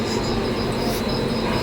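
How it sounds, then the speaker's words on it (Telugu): A Palani hill winch train running uphill gives off a steady, continuous mechanical rumble and rattle with a faint high whine, close by and without pauses or voices. "మీకు జస్ట్ శాంపిల్, మేము ఇంకా ఎక్కకుండా ట్రైన్ చూపిస్తున్నాను."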